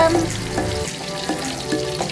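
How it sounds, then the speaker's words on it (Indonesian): Strawberry-flavoured KFC-style fried chicken sizzles steadily in hot oil at close range, with a few light stirring clinks and no talk. "Kita goreng lagi nih teman-teman, sisanya."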